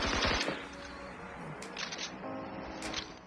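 A burst of SCAR rifle gunfire from a shooter game cracks sharply at the start, followed by scattered shots and clattering impacts over a dense, noisy game background.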